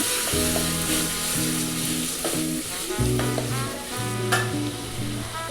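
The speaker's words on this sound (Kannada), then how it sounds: "ಟೊಮೆಟೊನು ಚೆನ್ನಾಗಿ ಫ್ರೈ ಮಾಡ್ಕೊಳ್ಳೋಣ." Tomatoes fry in a pan with onions for a lentil sambar, giving a steady sizzle with stirring scrapes, heard close over a soft melodic background.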